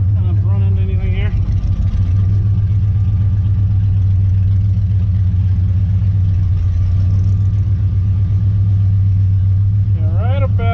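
A 1968 Dodge Sweptline pickup's engine rumbles steadily up close while the truck backs up, a low continuous drone that runs the whole time, with someone talking over it.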